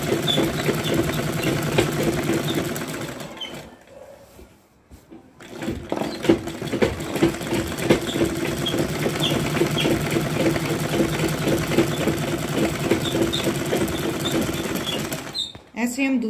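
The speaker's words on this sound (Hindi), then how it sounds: "इसको पूरा ऐसे अच्छे से पकड़ के ऐसे सिलाई लगाते जाएंगे।" A sewing machine stitches the seam of a beltless salwar in a steady, continuous run close by, pausing briefly around the middle before resuming, while someone speaks over it.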